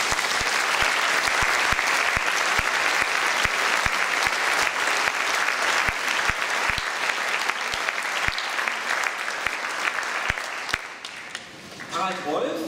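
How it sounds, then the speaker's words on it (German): An audience at a political talk on alternatives to G20 policies applauds warmly, sustained dense clapping with some sharp nearby claps, tapering off toward the end. "Bitte aber vor allem Sonja mit einem herzlichen Applaus"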